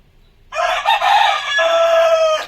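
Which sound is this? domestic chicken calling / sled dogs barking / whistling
domestic chicken calling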